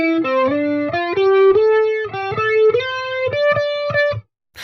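Distorted electric guitar playing the last two measures of a guitar solo: a run of sustained, bent lead notes climbing higher, loud and close, then cutting off into silence.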